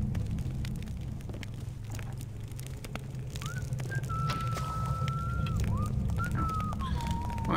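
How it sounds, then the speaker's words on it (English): A character whistles a thin wavering tune inside a Thief fan mission video game, drawn-out notes heard over a low rumbling ambient drone. "Whistling to himself."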